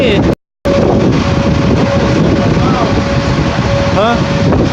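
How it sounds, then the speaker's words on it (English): Strong wind roars outdoors near a forming tornado, a steady loud rush buffeting the microphone throughout. One brief dropout interrupts it, and faint whistling tones drift in the background. "Yeah, here come the wind."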